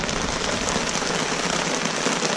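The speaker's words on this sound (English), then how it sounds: "The rain on the tarp is really loud." Heavy rain drums on a tarp during an overnight rainstorm camp on Vancouver Island, a loud, dense, unbroken patter close overhead with no pauses.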